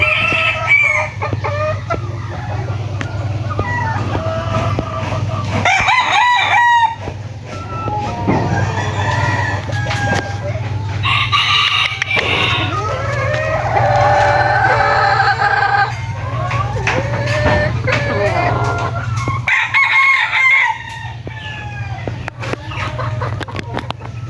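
Eight-month-old gamecock stags, crossbreeds, crow and cluck loudly and repeatedly, with several birds overlapping. A steady low hum runs underneath throughout, and no one speaks.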